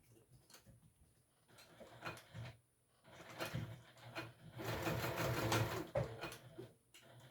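Sewing machine stitching a wristlet, running in short bursts of rapid mechanical clatter separated by pauses, with a longer sustained run near the end; close and fairly quiet, no talk.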